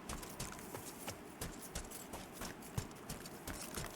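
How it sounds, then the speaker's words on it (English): Footsteps crunching through snow and ice in the video game Pantheon: Rise of the Fallen, a steady run of soft, even steps at close range with no talk over them. "It actually sounds really good. Sounds like you're walking through snow a little bit."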